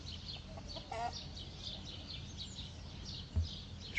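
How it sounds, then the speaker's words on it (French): A rooster clucks softly at a rural farm stop in Saint-Étienne-du-Bois, France, with a short, clearer call near the start over steady outdoor background noise. "Un joli petit coq."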